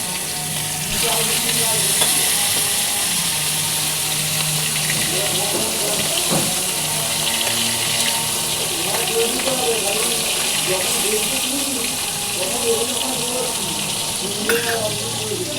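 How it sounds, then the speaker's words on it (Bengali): Fish frying in hot oil gives a loud, continuous close sizzle with crackling and stirring, backed by running water and faint talk throughout. "তো এখন হচ্ছে আমি মাছটা ভাজছি"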